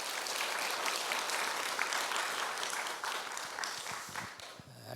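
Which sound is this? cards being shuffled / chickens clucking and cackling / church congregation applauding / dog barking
church congregation applauding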